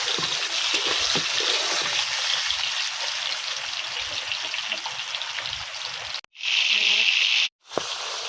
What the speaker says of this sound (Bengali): পটলগুলো একটু ভালো করে ভেজে নেব